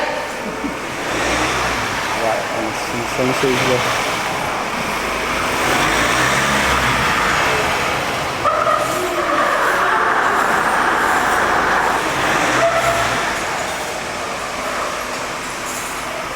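A Ford Ranger pickup's engine hums close by, rising and revving slightly as it pulls in, with people talking over the steady road noise.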